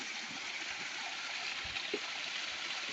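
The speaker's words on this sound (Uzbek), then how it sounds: "Sharsharacha." A small waterfall in the Nurota mountains rushes steadily with a constant, soft splashing hiss, heard alone and fairly quiet throughout.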